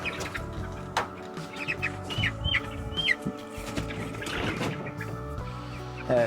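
Chickens in a movable cage set on grass, clucking and giving short calls at close range, with scattered rustling and mechanical knocks as the cage is shifted, no voices heard.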